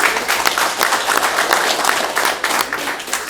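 During a podcast conversation, a small group claps in a lively, uneven rhythm to celebrate a guest's Emmy. The sharp, close hand claps come in quick bursts, loud and near, with no clear voice over them.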